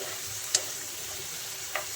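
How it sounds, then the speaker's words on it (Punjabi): Green peas being roasted in a pan for matar pulao, a soft steady frying sizzle with light stirring and two brief utensil clinks, close and fairly quiet. "ਹੁਣ ਆਪਾਂ ਮਟਰਾਂ ਨੂੰ 2-3 ਮਿੰਟ ਲਈ ਭੁੰਨ ਲਿਆ ਏ"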